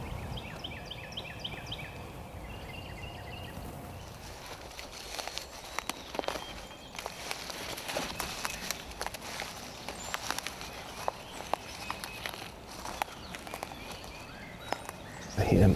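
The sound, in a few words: deer walking toward the hunters, footsteps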